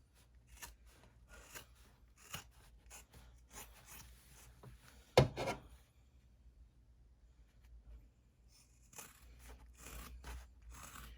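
Scissors snipping through purse fabric close to the seam while making a flapped purse, a series of quiet, crisp cuts and scrapes in a hushed room, with one louder snip near the middle.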